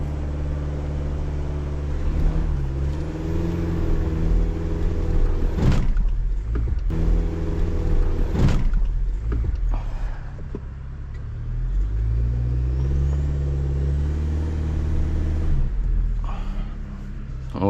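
A truck engine hums and labours at low speed off-road in slick mud, a steady close rumble with a few sharp clunks and knocks as the vehicle jolts over rough ground.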